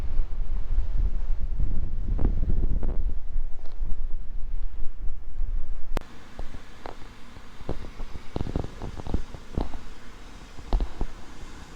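Strong wind buffets the microphone at Deoksan beach as heavy sea waves crash and foam along the shore, with a steady roar and repeated surges of surf, closer and more broken in the second half.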